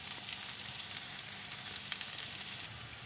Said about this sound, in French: Puis, je vais faire frire le carotte en premier